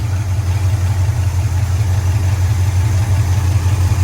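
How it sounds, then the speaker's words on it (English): Steady, loud idle of a 1973–79 Ford F-series truck engine warming up with coolant circulating through a new radiator, a constant deep rumble with no revving. "Okay, so let the truck run for a minute."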